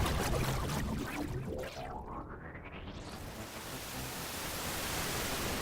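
Dense wash of water-like noise from a Rymdigare reverb pedal set fully wet, with a sweeping tone gliding upward through it, steady and loud on its own.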